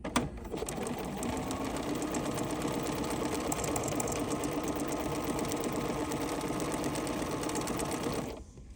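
A sewing machine stitches embroidery sampler sashing with a steady, even mechanical whir that runs for about eight seconds before stopping abruptly.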